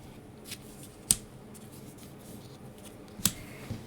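Scissors trim paper hearts for a Valentine's card, two crisp snips standing out over a quiet room with faint paper rustle and handling between them.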